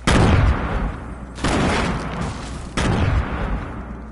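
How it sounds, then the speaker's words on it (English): Video game combat with grenades and gunfire: three loud, broad booming bursts roughly every 1.4 seconds, each followed by a dense rumbling tail of shots, close and with no talk. "I'm throwing grenades."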